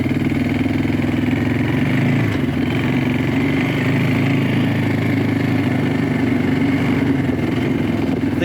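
A Jianshe Puma 250 quad bike engine runs steadily nearby, a loud continuous buzzing drone with a brief shift in pitch partway through and no voices over it.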